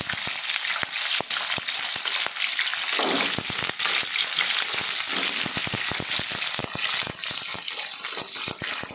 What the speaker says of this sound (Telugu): ఫస్ట్ మిరపకాయలు వేస్తున్నారు